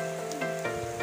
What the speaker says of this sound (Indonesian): Mantap hujan-hujannya teh.